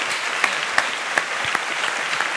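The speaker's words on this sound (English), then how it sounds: "give Dame Diana a massive round of applause?" An audience at the Cambridge Union gives a round of applause, dense continuous clapping from a sizable crowd heard close and steady, with a few sharper claps poking through.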